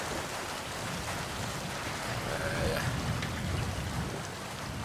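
Rain in the video game Metal Gear Solid V: The Phantom Pain, a steady, dense hiss of falling rain with a slight swell midway, continuous and alone.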